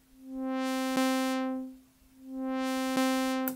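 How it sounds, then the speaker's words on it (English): Synthesizer tone whose filter frequency is swept by a sine-wave LFO, swelling open and closing again in two slow, even cycles, clean and alone. "I'm going to use this LFO to modulate, let's say, filter frequency. I'm also going to change this back to sine wave."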